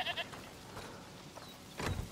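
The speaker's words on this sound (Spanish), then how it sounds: "La cabra loca" A goat bleats in A Plague Tale: Requiem, a quiet wavering bleat at the start and a louder, rougher call near the end, with faint game ambience in between.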